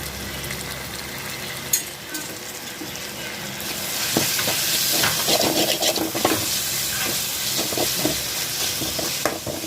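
Spices and chili powder are stirred in a frying pan while making macaroni pasta, giving a close, steady sizzle with scraping stirs that grows louder and busier partway through, with no talking.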